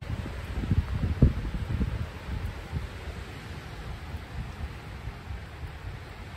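Gusty wind rumbles and buffets at a wild campsite during Storm Dudley, with soft misty rain hissing underneath and stronger low gusts early on.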